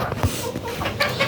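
Farm chickens cluck in a few short, close bursts over a steady background noise.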